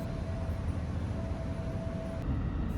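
Quiet rumble inside a stationary train carriage waiting to depart in Gifu, Japan, with a low steady hum and a faint tonal whine.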